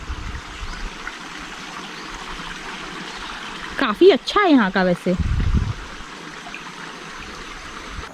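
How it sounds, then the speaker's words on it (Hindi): Water from Sweet Water Lake at Arambol, Goa, flows past steadily as a faint constant stream under brief nearby talk. "आप लोग देख सकते हैं जो स्वीट वाटर लेक का जो पानी है यहाँ से होते हुए जा रहा है"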